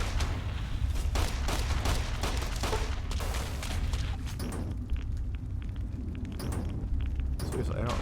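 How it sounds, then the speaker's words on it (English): Gunfire in the Fallout New Vegas game, played with the DUSTy Roads mod: repeated sharp shots in rapid irregular bursts through the first half, easing into sparser distant cracks, with a voice talking over them. "Who is shooting me?"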